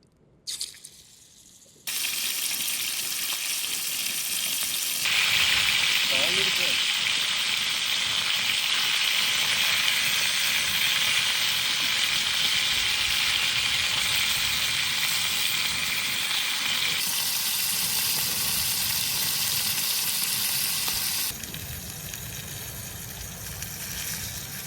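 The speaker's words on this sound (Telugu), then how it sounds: "చేపలు ఫ్రై చేయడము అయిపోయింది" Tuna fish pieces frying in oil in a pan, a steady loud sizzle that starts abruptly and holds for about twenty seconds before easing off, with faint clinks of utensils.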